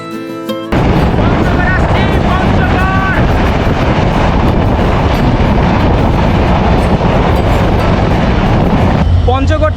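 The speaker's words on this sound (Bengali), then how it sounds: "আমরা পৌঁছে গেছি পঞ্চগড় রেলওয়ে স্টেশনে" A train rumbles loudly through Panchagarh railway station, with a steady roar of wheels and carriages, metallic squeals rising over the din and a brief horn-like tone just before the noise starts.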